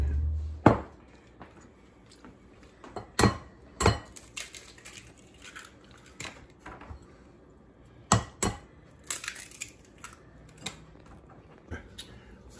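Eggs are cracked against a hard edge and dropped into a bowl while preparing an egg wash for fried mozzarella sandwiches. Sharp, separate knocks and clinks come in irregular bursts, close and fairly loud, with quiet gaps between them.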